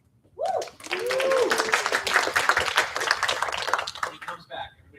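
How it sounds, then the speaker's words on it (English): An audience at a university student government meeting claps for a few seconds, dense steady applause with a brief voice at the start and a few scattered claps trailing off at the end. "Everybody clap."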